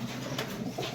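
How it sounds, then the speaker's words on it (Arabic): Pigeons imported from the Netherlands coo softly in a loft, a faint, low murmur over steady background hiss. "هيرو دي بنت استيراد مباشر، ولاد حمام هولندا"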